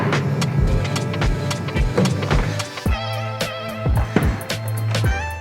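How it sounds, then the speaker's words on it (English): Electric motor whirring as the front seat of a camper van conversion is moved forward, a near, mid-pitched drone interrupted by mechanical clicks and knocks, with no talking. "So I'm just going to move the front seat forward just a little bit."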